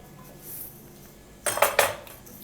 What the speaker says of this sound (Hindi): ये देखें देसी घी का ये चम्मच मैं इसमें ऐड करूँगी।